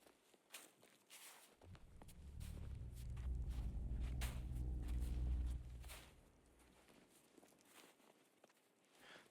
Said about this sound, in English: let's just hear it with the footsteps in action.